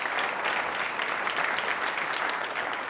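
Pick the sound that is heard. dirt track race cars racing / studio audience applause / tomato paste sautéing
studio audience applause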